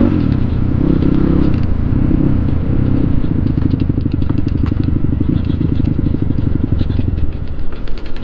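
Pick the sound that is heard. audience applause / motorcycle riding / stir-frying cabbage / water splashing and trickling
motorcycle riding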